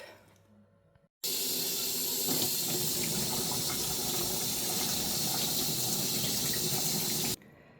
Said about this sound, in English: Let's rinse it off and take a look.